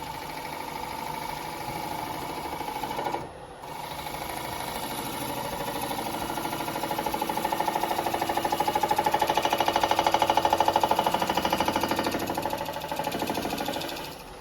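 A wood lathe turns a cracked cherry bowl, the cutting tool chattering against the broken surface in a rapid, buzzing rattle that swells louder midway, with a short break near the start and no talk.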